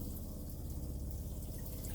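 Water drains and trickles from RV plumbing while it is being de-winterized, a faint continuous gurgling pour with no voices.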